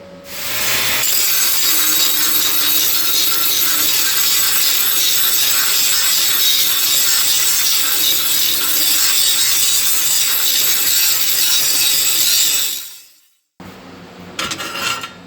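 Loud, continuous grinding from a grinding stone dressing down fresh welds on a piece of metal work, a steady harsh whine running for about twelve seconds before cutting off abruptly, followed by a brief quieter burst.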